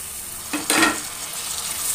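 Chopped tomatoes being sautéed for vegetable upma, a burst of sizzling and stirring swelling up mid-clip over a steady low frying hiss, no voices.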